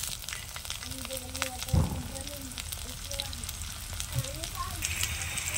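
Small potato pieces sizzle and fry in hot oil, a steady close crackling with light stirring and a brief clatter near the middle.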